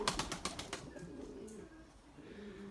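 A white male Bucalı pigeon flapping its wings in flight, a rapid burst of wingbeats up close at the start, then fading into faint outdoor background.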